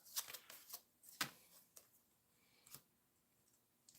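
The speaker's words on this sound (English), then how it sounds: "I have to shuffle some cards around" Playing cards shuffled by hand at a tabletop baseball replay session: a few quick riffling bursts and snaps, close and fairly quiet, separated by brief pauses with no talking.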